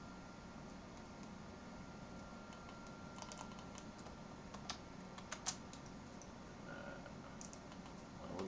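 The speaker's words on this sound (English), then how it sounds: "We'll just type it out." Quiet computer keyboard typing in a Windows setup, soft scattered keystrokes clicking in short irregular runs over a steady low background hum.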